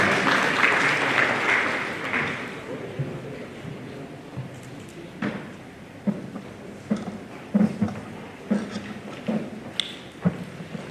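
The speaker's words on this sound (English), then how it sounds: "Please, another round of applause for her." Applause from a crowd fades out after a couple of seconds, leaving scattered claps, thumps and shuffling in a roomy space.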